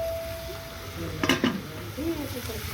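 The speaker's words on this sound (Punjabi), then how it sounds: "ਮੰਮੀ ਨੇ ਤੜਕਾ ਵੀ ਲਾ ਦਿੱਤਾ" A tadka sizzles in a kitchen for masoor dal, a soft steady frying hiss under clinks of a spoon against a pot, with a burst of metallic clatter midway and a faint voice in the background.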